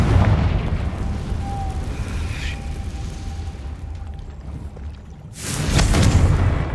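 A Confringo spell bursts in Hogwarts Legacy with a loud, close explosive boom near the end, following a low rumbling ambience with a faint magical tone.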